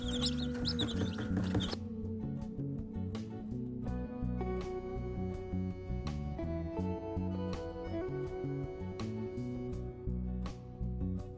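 Country chicks in a brooder warmed by a 60-watt bulb, clucking and chirping steadily throughout, with busy bird calls layered over a constant low hum.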